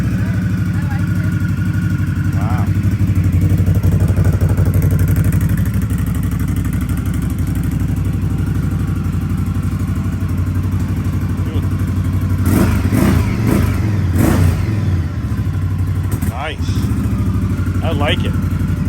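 An Indian Scout Bobber motorcycle fitted with a Shorty muffler idles nearby with a deep, steady rumble, then revs in several short throttle blips, while people talk over it.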